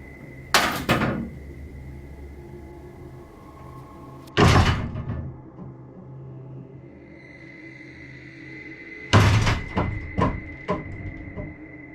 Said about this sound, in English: You can literally see the demon on camera moving the crib and then breaking the wardrobe doors.